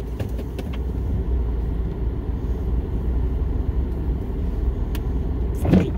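A car drives through snowy Alaska in deep cold, its steady low engine and tyre rumble running continuously with a few faint knocks and a brief louder bump near the end.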